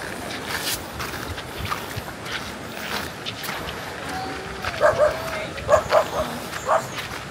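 A dog barks several times on a riverbank or in a boat on the water, a few sharp yips standing out near the end over a noisy outdoor wash of wind and water, with distant voices faintly underneath.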